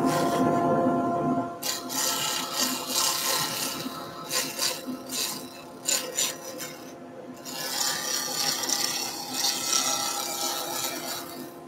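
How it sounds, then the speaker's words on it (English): During beginner pen turning, a dust extractor runs as a laburnum blank is sanded and scraped, giving loud, close rasping and rubbing in bursts of uneven strokes against a constant steady whoosh. "I'm going to hit the extractor, so getting a little bit of dust off of this laburnum."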